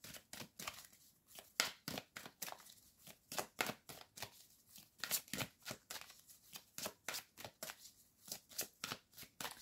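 Tarot cards shuffled by hand close up, a steady string of crisp riffling and snapping bursts in an uneven rhythm, with no talking.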